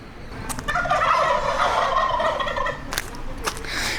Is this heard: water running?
no